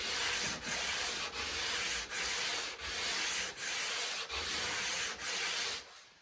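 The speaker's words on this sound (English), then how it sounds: "Kind of boring watching someone sand, maybe." Steady back-and-forth sanding of a guitar fretboard, the wooden surface rasping in about eight even strokes with brief pauses between them, close and loud, and the last stroke tails off.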